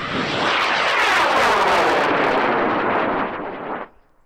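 A high power rocket motor roars off a launch pad with a red flame, a loud continuous rushing boost that holds steady for several seconds, then fades away quickly as the rocket climbs.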